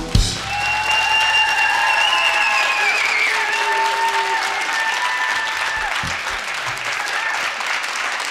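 A theatre audience applauds a comedy stage performance, a dense, loud burst of clapping that swells and then holds steady, under a few brief tonal sounds.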